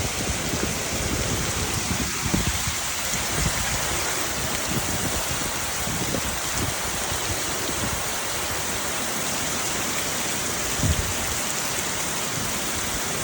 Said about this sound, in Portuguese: Tá chovendo bem forte aqui